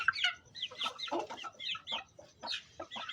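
Aseel hen clucking in a short series of close, quiet, uneven calls, heard on their own with no talk.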